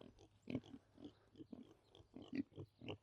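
Pigs in a garden pen grunt quietly in short, irregular bursts, several grunts over about three seconds, close but soft.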